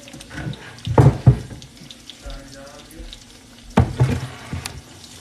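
Tap water runs and splashes into a sink while a cast iron pan is washed, in a few uneven bursts with handling noises in between, no voices.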